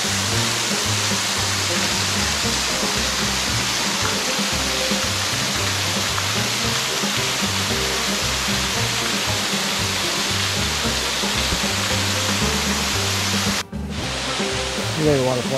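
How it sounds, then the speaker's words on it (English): Little Sink Falls in Huntsville, Alabama in late spring, a continuous loud rush of falling water close by, steady and unbroken, with a brief dip near the end. "You made a waterfall."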